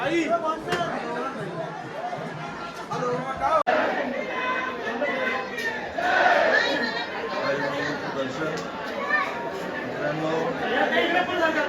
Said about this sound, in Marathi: मित्रांनो आईच्या दरबारामध्ये किती गर्दी आहे बघा